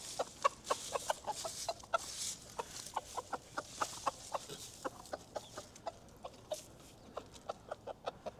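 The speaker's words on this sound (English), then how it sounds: "There's my problem rooster." Hens cluck in a steady stream of short, repeated calls, with a rooster among them, close by and fairly loud, continuing throughout without pause.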